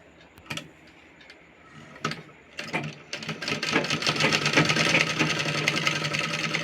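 Electric sewing machine stitching a six-panel petticoat, starting with a few short bursts and then running steadily in a fast rhythmic whirr with needle ticking, fairly close and loud.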